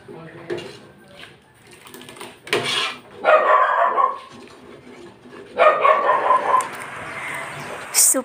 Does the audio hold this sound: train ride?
no